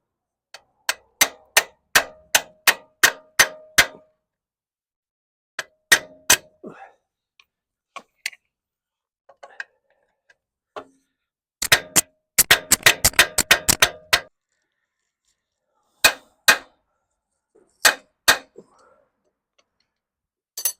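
Sharp metallic taps from a small hammer driving a freeze plug into a 1953 Golden Jubilee engine, in bursts, sometimes slow and spaced, sometimes quick and rapid, with silence between the groups.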